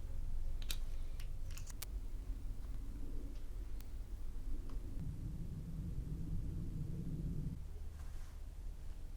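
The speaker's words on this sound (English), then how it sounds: "I think what I'm going to do is trim the wire of this servo" A small RC servo wire is trimmed with a few brief, crisp snips near the start, then a steady low background hum follows.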